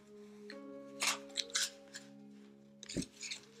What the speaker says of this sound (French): comme les cartes sont épaisses, c'est vrai qu'elles sont pas très faciles à manipuler en fait